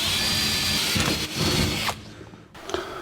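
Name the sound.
drill boring holes in metal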